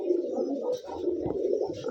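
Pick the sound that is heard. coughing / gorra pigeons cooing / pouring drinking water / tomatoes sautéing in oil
gorra pigeons cooing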